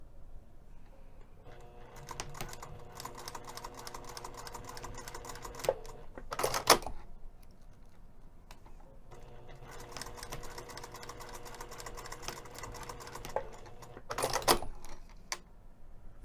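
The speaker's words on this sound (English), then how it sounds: "I'm going to take this over to the sewing machine and sew 2 lines of stitching" Domestic sewing machine running two lines of straight stitching along a pressed edge of a bag's sling strap, a steady mechanical whir in long runs with brief louder clacks between passes, close up and alone.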